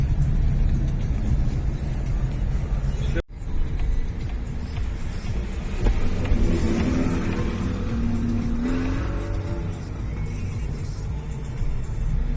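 Cars drive past in a parking area, a continuous road rumble with one vehicle swelling louder as it passes close by midway, and a brief sharp break near the start.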